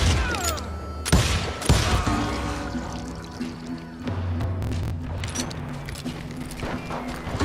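Gunfire in the Wild West shooter Call of Juarez: Gunslinger, sharp close shots cracking out early over booming low game music, followed by a steady rumble of action and ambience.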